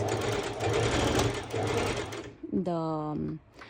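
A sewing machine stitching skirt fabric runs loud and steady at close range, whirring continuously for about two seconds before stopping, followed by a short tonal sound and a brief voice.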